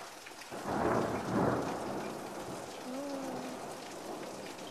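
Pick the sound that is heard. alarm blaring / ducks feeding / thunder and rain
thunder and rain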